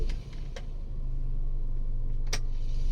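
A noisy cabin blower fan motor in a Mitsubishi E-car switches on after a couple of clicks, then settles into a steady low whirring drone, close and moderately loud, with no speech.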